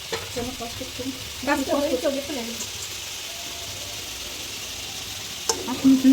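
Mixed lentils stirred in a hot tempering, a steady sizzle under bursts of spoon scraping in the middle and again at the end, close and fairly loud, with no speech.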